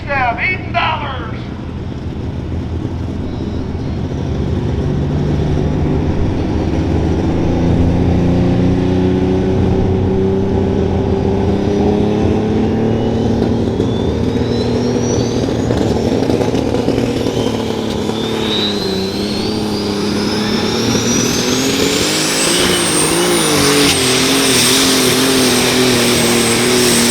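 A John Deere light super stock pulling tractor at a Freeport, Illinois tractor pull, its engine roaring loud and sustained with rising turbo-like whine as it powers down the track, an announcer talking over it.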